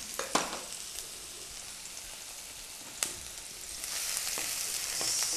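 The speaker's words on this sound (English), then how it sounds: "When the oil is hot, we add the onions." Onions drop into hot oil for Kabuli rice and sizzle continuously up close, with a couple of sharp clinks early on and the frying hiss growing brighter and louder toward the end.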